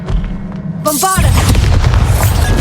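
A Bombarda spell explodes in the Hogwarts Legacy video game: a sharp magical chime and crackle, then a loud, sustained booming blast that rumbles on to the end, over a low background.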